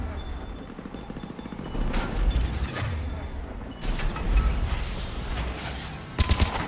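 Assault rifle fire in the Mass Effect 3 video game, bursts of rapid shots with booming impacts mixed over game sounds, loud and close, with a sharp final volley near the end.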